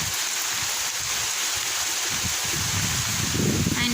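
Rain pours outside during a big storm, a dense, steady hiss throughout, with a little low rumble and a faint bit of other noise near the end.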